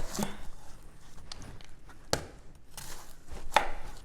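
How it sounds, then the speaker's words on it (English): Knife quartering an onion for slow cooker corned beef and cabbage: a few sharp, separate chops on a cutting board, spaced unevenly over several seconds, close and moderately loud with no talk. "I have an onion here. I'm gonna quarter it."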